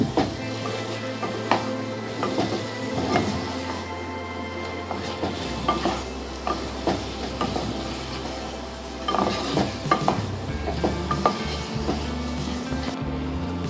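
Chicken cooking in a pan with salt and a prepared spice mix for Kashmiri chicken kanti, a continuous sizzle broken by repeated scraping stirs, close and steady with no talk.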